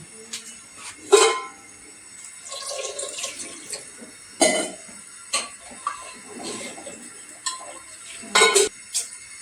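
Water poured into a simmering vegetable curry in a home kitchen, heard as a few short, close splashing pours separated by quiet gaps, with light clinks of pot and utensil.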